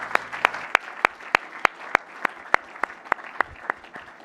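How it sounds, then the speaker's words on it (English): Steady, evenly spaced handclaps for award winners at the WTSA 2015 gala, about fifteen in a row at a brisk even pace, fairly close with no voices. "give a round of applause for all the winners this evening"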